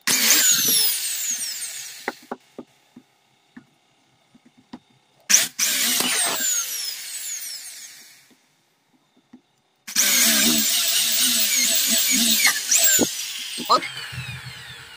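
A power drill bores into a coconut shell being made into a hanging lamp, whining in two long loud bursts split by a quiet gap that carries scattered clicks and taps. Voices come and go between the drilling.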